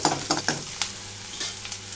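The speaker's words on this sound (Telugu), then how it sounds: "ఇది ఇక్కడ కొంచెం మీడియం ఫ్లేమ్లో ఉంచి ఉల్లిపాయలని కొంచెం దోరగా వేయించేస్తున్నాను" Onions frying on a medium flame for an okra dish, with a steady hiss of oil and several sharp stirring clatters early on, heard up close with nobody speaking.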